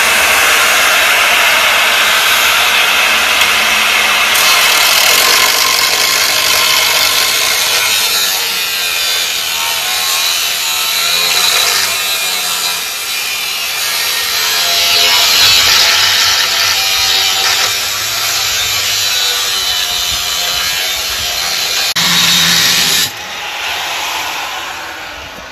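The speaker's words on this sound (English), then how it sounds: "My old grinder doesn't want to," An old angle grinder cuts into a steel water tank being made into a homemade fire pit: a loud, continuous abrasive roar with a shrill high whine partway through, then an abrupt drop in level near the end.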